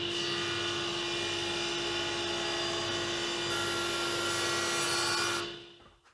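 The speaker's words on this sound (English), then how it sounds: "when I run the grooves down the middle and on the sides with a router" A router cuts grooves into wood for a handmade soap dish, giving off a loud, steady, high-pitched whine with a rough cutting noise, then winds down and stops near the end.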